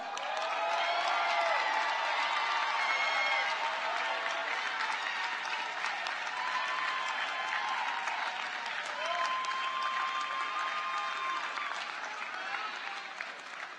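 A commencement audience gives sustained applause for graduates, a dense, even wash of clapping that holds steady before easing slightly near the end, with some speech-like sounds faintly mixed in.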